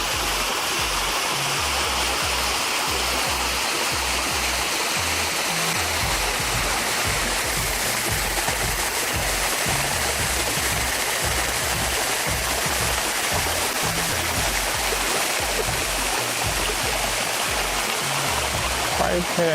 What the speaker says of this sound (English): Yeah, I'm in this waterfall here.